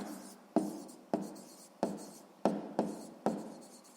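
A pen writes down herb quantities for a maths exercise: seven short scratchy strokes start with a sharp attack and fade, at a close, steady, fairly quiet level.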